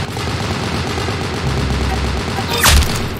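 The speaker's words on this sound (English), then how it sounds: "Very good shooting." Gunfire in the Roblox shooter Arsenal, a steady dense rattle of rapid shots running throughout with a louder burst near the end, set against constant game noise.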